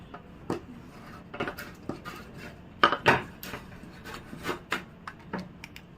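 Plastic gear box clicking and scraping as it is fitted into a motorized curtain track with a Dooya motor, a run of close, irregular knocks, rattles and snaps with a couple of louder clacks, no voices.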